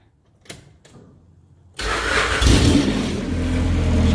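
Honda Civic with a swapped-in F23a engine, running with no O2 sensor and an improvised ECU: a few faint clicks, then the engine catches at once and settles into a loud, steady run.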